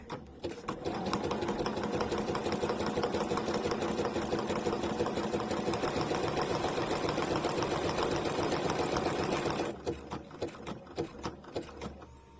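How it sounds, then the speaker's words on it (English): A sewing machine running steadily as it stitches a loose zigzag for a 3D satin stitch, a loud continuous mechanical whir with rapid needle clatter for about ten seconds before slowing into a few separate stitches and stopping. "Now we'll sew our zigzag."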